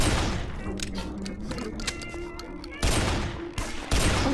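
Shotgun blasts in a retro-style zombie shooter game, several loud sharp booms in quick succession with a burst of rapid fire between them, over a busy game soundscape with a player's voice mixed in.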